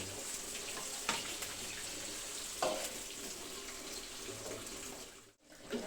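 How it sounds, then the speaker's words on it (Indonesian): Steady hissing sizzle of onions frying in oil in a village kitchen, constant and moderately quiet, with a couple of faint clinks. "goreng bawang"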